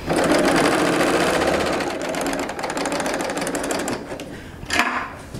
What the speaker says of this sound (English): I'm going to just take my little collar piece right sides together, and I'm going to sew it.